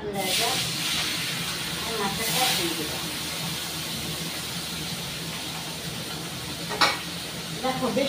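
Fish pieces fry in hot oil in a pan, giving a steady broad sizzle and hiss throughout with occasional stirring scrapes and brief bursts of louder spattering.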